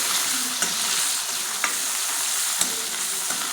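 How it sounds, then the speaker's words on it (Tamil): Onions frying in a pan with garlic, coriander stems and curry leaves for an egg gravy: a steady, close hiss of sizzling with a few soft stirring clicks. "வெங்காயம் நல்லா வேகுது"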